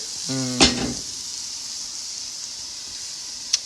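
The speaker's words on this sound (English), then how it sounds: "Ooh, the oil is too hot." Food drops into oil that is too hot and sizzles sharply, a brief loud burst of crackle and hiss that settles into a steady frying hiss, with a faint clink near the end.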